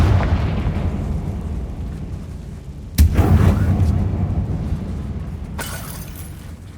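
A Confringo fire spell explodes in Hogwarts Legacy: a sudden loud burst cuts through a low rumbling game ambience, followed by a sustained crackling roar that slowly fades, with a second sharper hit near the end.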